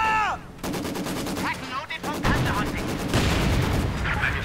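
A Maxim machine gun rattles in sustained, rapid bursts in a Company of Heroes 2 battle, joined by other gunfire, with a game announcer talking over much of it.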